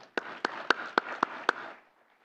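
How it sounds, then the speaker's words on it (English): Six distinct, evenly spaced claps ring out in a quiet room at an academic colloquium, then fade to silence; a sparse, brief round rather than full applause. "Perhaps we could give a quick round of applause to everyone involved."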